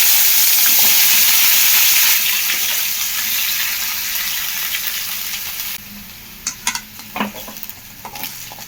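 Green chilli and tomato pieces drop into hot oil with a loud, bright sizzle that slowly fades, then a few short clinks and scrapes as the pan is stirred near the end.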